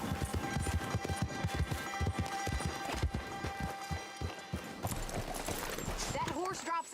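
Horse hooves clip-clop in a rapid rhythmic patter in the video game Red Dead Redemption 2, heard under speech and game sounds.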